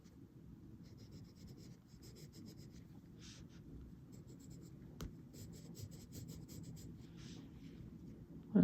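Warm brown colored pencil rubbing across paper, a soft steady scratchy texture that stays quiet and close throughout, with a slightly louder stroke right at the end.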